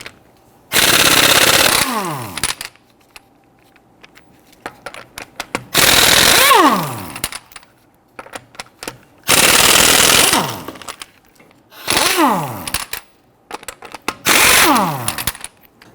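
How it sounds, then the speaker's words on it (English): An impact wrench with a 19mm socket loosens lug nuts on a raised 2010-2019 Ford Taurus, firing in five loud rattling bursts of about one to two seconds each, with short quiet gaps between them. "we're going to use our 19mm socket to loosen and remove our lug nuts."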